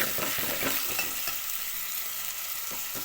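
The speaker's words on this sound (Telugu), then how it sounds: "ఉల్లిపాయ పచ్చిమిరపకాయలు అల్లం వెల్లిపాయ పేస్ట్ అన్నీ మగ్గేదాకా కడతాను" Onion, green chillies and ginger-garlic paste fry in a pan with a steady broadband sizzle, punctuated by repeated stirring scrapes in the opening second and a few more near the end, close and moderately loud with no voices.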